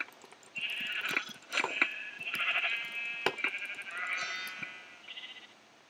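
Sheep bleating in a multiplayer video game match, several overlapping wavering bleats in quick succession, fairly loud and close, with no talk over them.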